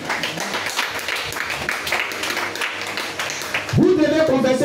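Congregation applauding during a church service, a continuous wash of clapping that gives way near the end to a loud, close sung or spoken voice.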